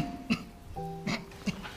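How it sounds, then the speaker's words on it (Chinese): Several short coughs from a woman, spaced irregularly over a quiet indoor background, each a brief rough burst. "为什么总是咳嗽？"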